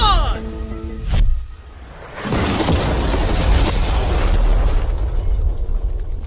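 An ordinary car is blown up with mannequins seated inside. A brief voice comes first, then a sudden loud blast and a long, close, roaring rumble of the explosion that slowly fades.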